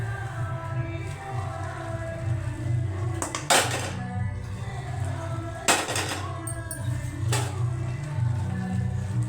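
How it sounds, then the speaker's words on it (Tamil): Metal spoon scraping and clanking against a cooking pot as wilted small greens go into cooked dal, a few louder knocks over a steady kitchen hum. "இப்போ இதை எடுத்து பருப்பில் போட்டுக்கலாம்."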